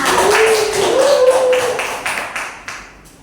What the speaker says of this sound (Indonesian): Tepuk tangan buat Ahmad.